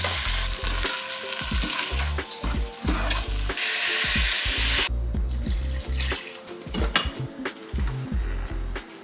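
Rice frying in butter in a pot on a stove, a loud bubbling sizzle with stirring clatter that drops off sharply midway, leaving quieter scrapes and knocks, near and without speech.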